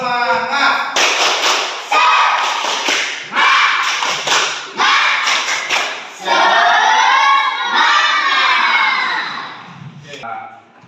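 Schoolchildren in a classroom perform the tepuk semangat clapping chant, their voices loudly shouting the words in unison while bursts of rhythmic hand claps punctuate each line, fading out at the end.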